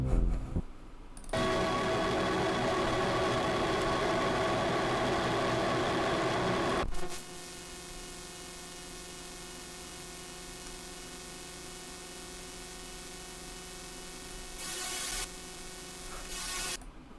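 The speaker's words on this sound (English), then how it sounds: "if you turn on a reverb, it'll start making a really loud noise." Loud layered ambient drone from about thirty stacked compressors with reverb, a dense broadband wash that swells in for several seconds, then drops to a quieter sustained tonal hum with a brief noisy burst near the end.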